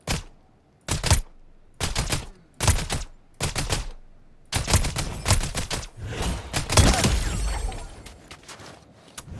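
Gunfire in a video game during a live stream: rapid bursts of shots in short separated volleys, then denser continuous firing with crackling impacts, loud and close, with no talking.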